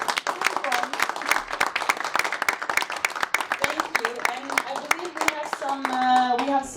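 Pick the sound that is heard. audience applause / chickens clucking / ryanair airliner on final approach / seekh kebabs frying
audience applause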